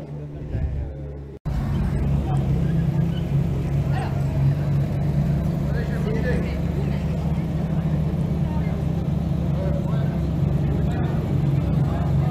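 Ferrari cars, including an F348 and an F430 F1, arrive at a Ferrari gathering, a steady loud engine drone after a brief quieter start, with a voice talking over it.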